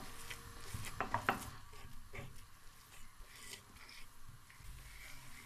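A spoon stirs melting khoya in a pan for carrot barfi, giving soft scraping and a few sharp metallic clinks early on, then quieter rubbing strokes at low level.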